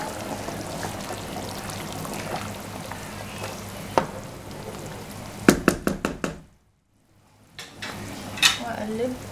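Meat sizzles while frying in a pan and is stirred and turned. A steady crackle runs underneath a quick burst of scraping, knocking utensil strikes against the pan. The sizzle drops away for a moment, then returns with a few more clinks.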